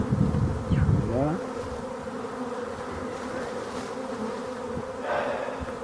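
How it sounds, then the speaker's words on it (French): A honeybee swarm that has settled on ferns gives a steady, dense buzzing drone that runs throughout at a fairly even level, with a slightly louder stretch near the start and no talking. "quand il y a trop d'abeilles, eh bien, ça casse"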